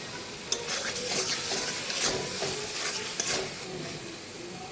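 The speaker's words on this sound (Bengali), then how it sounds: "মশলাটা আমার খুব সুন্দর কষানো হয়ে গেছে" Spices with Kashmiri chili powder, turmeric, salt and chopped tomato sizzle and fry in a pan for a fish curry, with steady frying hiss and repeated scraping stirs of a spatula, close and alone.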